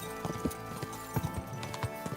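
Horse hooves clip-clop at a steady walking rhythm in the medieval game Kingdom Come: Deliverance 2, moderately close, with a faint background drone and no talk.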